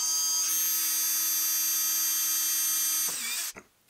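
A power drill boring a 9/64 hole for tapping, a steady close high whine held for about three seconds before winding down and stopping, followed by a brief clatter.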